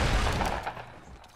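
Rapid gunfire from a Fortnite match rattles in a dense burst up close, loud at first and thinning toward the end, with no talking over it.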